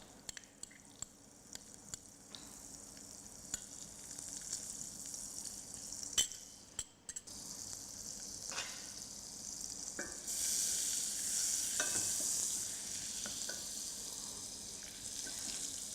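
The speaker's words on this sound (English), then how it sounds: "Here I have 50 grams of margarine, which I'm going to melt." Fifty grams of margarine melting in a pan for a roux, a soft, quiet sizzle with scattered small pops and clicks, growing a bit fuller toward the end.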